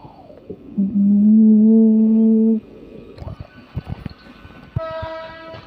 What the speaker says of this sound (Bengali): আমাদের ট্রেন হচ্ছে সাউথ ইস্টার্ন রেলওয়ের একটি লোকাল ট্রেনের সাথে প্যারালাল রেস করছে আজকে